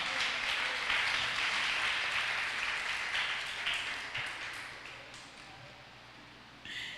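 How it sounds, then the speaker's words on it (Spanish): A church congregation applauds during a Spanish-language sermon, a dense, sustained wash of clapping that slowly thins and fades over several seconds before a brief final flurry. "Un aplauso a la palabra."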